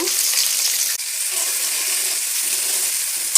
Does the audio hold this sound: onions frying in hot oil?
yes